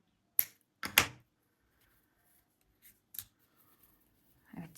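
Scissors snip through crochet yarn while an amigurumi car charm is finished, giving two quick close crisp cuts near the start, then a few fainter small handling clicks and rustles.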